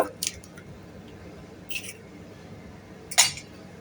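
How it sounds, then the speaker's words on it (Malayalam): An egg is worked into chilli chicken in a bowl: soft wet squishes with a few light clinks, three short bursts spread apart over a quiet background. "മുട്ട ചേർത്തൊന്ന് തട്ടി വയ്ക്കുക"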